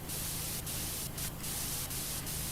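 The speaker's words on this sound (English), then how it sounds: "Let's give the back a good spray." A pressure washer spraying in Power Wash Simulator while cleaning a time train, a loud, continuous hissing jet of water with brief dips and surges as the spray shifts across surfaces.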